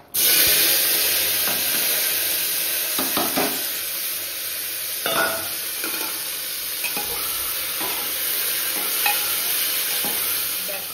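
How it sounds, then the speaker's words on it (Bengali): Potatoes, tomatoes and chili frying together over a nigella seed tempering, a loud steady sizzle with repeated scraping and stirring strokes of a spatula throughout. "এবার এই আলু টমেটো আর লঙ্কাটাকে দিয়ে দেবো, একসাথেই দেবো, দিয়ে ভেজে নেব ভালো করে"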